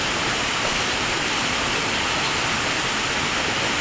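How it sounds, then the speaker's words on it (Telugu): Darakonda waterfall in front of a temple, a dense, steady roar of falling water that stays loud and unbroken throughout, with no other sounds standing out. "ఈ జలపాతం అయితే గుడి ముందు అయితే కనిపిస్తుంటుంది"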